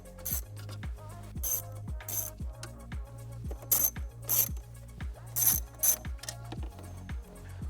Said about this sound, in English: We're now going to remove two bolts on either side of the factory screen and these two screws as well.